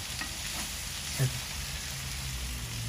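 Pumpkin and bitter gourd fry in a pan with a steady, soft, even sizzle and an occasional faint stir or clink, quiet and continuous.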